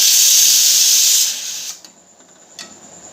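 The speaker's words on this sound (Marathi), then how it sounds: "मोहरी जिरे चांगले कडकडू द्यायचे" Mustard seeds and cumin crackle in hot oil for tempering, a loud close hiss and sizzle for over a second that then drops to faint scattered pops.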